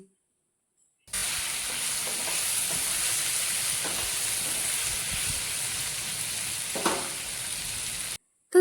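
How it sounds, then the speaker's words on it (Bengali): A taro stem vegetable curry sizzles softly in a pan over low flame, a steady hiss with light stirring scrapes, close and alone, starting abruptly after a second of silence and cutting off near the end. "এবার আমরা এই সবজিটাকে একটু মিক্স করে নিচ্ছি"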